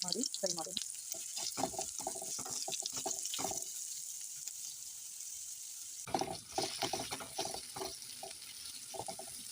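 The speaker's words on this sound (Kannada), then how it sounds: "ಪುನಃ ಕೊಕೊನಟ್ ಆಯಿಲ್ ಹಾಕಿ, ಬೆಳ್ಳುಳ್ಳಿ ಹಾಕಿ, ಬೇವು ಸೊಪ್ಪು, ಹಾಕಿ ಒಂದು ದೊಡ್ಡ ನೀರುಳ್ಳಿ ಕಟ್ ಮಾಡಿ ಫ್ರೈ ಮಾಡೋಣ." Garlic, curry leaves and a large chopped onion fry in coconut oil for a Mangalore-style mutton potato coconut-milk gravy, with close sizzling and stirring scrapes in bursts and a quieter spell in the middle.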